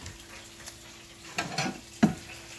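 Chicken thigh and tater tots frying in hot oil give a low steady sizzle, with a few louder bubbling bursts and one sharp clatter near the end.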